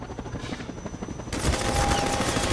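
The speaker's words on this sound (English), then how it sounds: "Freaking helicopter, man." A Half-Life 2 helicopter with rotor thrum and a continuous burst of rapid machine-gun fire that swells louder partway through, heard amid game noise.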